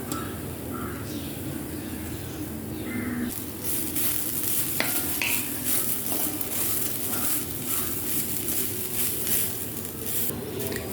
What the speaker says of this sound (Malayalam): തേങ്ങ നമുക്കൊന്ന് വറുത്തെടുക്കാം